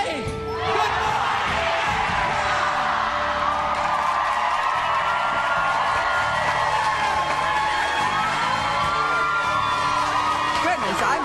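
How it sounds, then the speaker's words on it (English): A large morning crowd at the Extreme Stunt Show in Disney-MGM Studios, Orlando, Florida, cheers and whoops loudly and continuously, a sustained roar of many voices. "I'm in awe of that crowd out there this morning"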